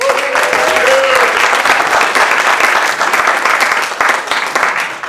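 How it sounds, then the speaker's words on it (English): At a 2023 tribute to Rev. Martin Luther King, an audience applauds country bass fiddle player Teddy Chubb with a loud, full wash of clapping that sustains evenly throughout, with a faint voice or tone briefly audible early on. "Please, a wonderful, wonderful round of applause"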